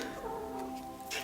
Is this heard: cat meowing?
yes